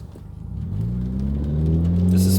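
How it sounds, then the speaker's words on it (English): A 2017 Subaru WRX with a CVT and Stage 1 tune accelerates hard in sport mode, its engine drone swelling steadily louder and rising in pitch from inside the car. "I'm hitting the gas aggressively"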